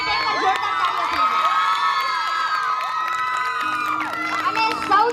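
A crowd at a nursing college building opening ceremony cheers and whoops, loud shouts and tonal calls layered over scattered clapping, sustained throughout.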